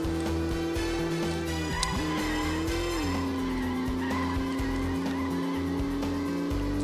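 Car tires skidding and sliding in a racing video game with an RS Magnum engine, a loud continuous tonal squeal that wavers in pitch over a steady engine drone, lasting throughout without talk.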